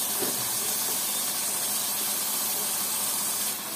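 Dried loitta fish hitting a hot pan, giving a steady, loud sizzling hiss that holds evenly throughout without pause.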